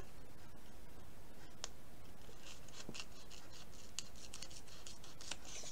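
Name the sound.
scissors cutting off excess sticker paper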